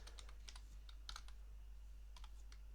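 Typing on a computer keyboard while writing PHP code, a few scattered soft key clicks, close and quiet over a low steady hum.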